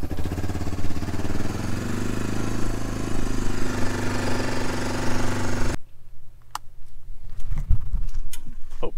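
A 1990 farm four-wheeler ATV engine idles nearby with a loud, rough, steady chugging that cuts out abruptly partway through, leaving faint clicks and ticks of the cooling machine.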